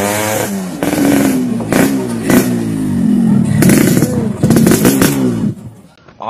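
A motorcycle engine revs loudly and close in repeated bursts, blipping the throttle with rattling clatter between pulses, dropping away near the end.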